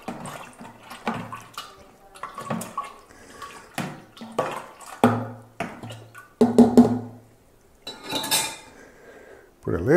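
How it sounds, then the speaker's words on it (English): Stirring yeast into guava wine must in a fermenter with straining bags: clattering and scraping of a utensil against the vessel, with splashy liquid movement in irregular bursts, close and fairly loud. "we'll probably just give it a quick little stir just to incorporate the yeast a bit"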